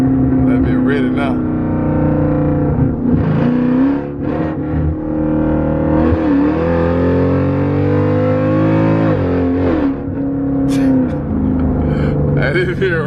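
A 1000 HP Jeep Trackhawk pulls hard on the street, its engine droning loud and steady with a supercharger whine layered on top. People talk over it throughout.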